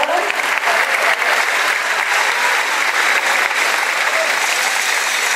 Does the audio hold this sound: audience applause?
yes